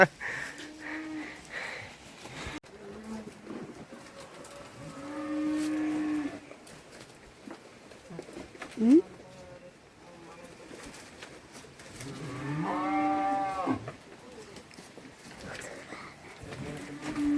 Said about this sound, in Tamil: மாடு கத்துறாங்க, என்ன இன்னும் குளிப்பாட்டலன்னு சொல்கிறா.